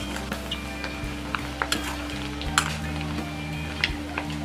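Prawns fry for pickle in a pan, giving a steady close sizzle and crackle broken by small pops and spoon stirs, with a low hum underneath.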